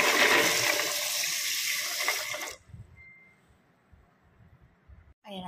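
Raw peanuts being washed in water for boiling in a rice cooker: a loud rushing, splashing wash for a couple of seconds, then it cuts off to quiet with faint water movement and a brief splash at the end.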